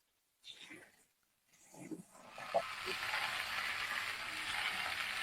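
Okra dropped into hot oil in a pan for a Bengali chorchori sets off a sudden, close sizzle that follows a few soft rustles and then holds as a steady crackling hiss.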